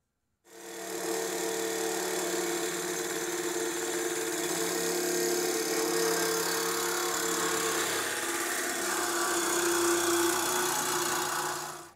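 A Sawzall reciprocating saw cuts through the exhaust pipe of a 2010-2013 Chevrolet Camaro, a loud, continuous buzzing drone running for about eleven seconds with little change in pitch.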